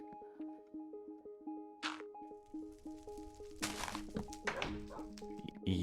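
Dogs bark in Minecraft Beta 1.7.3, a few short game barks at moderate level over looping background music, with some thuds near the end.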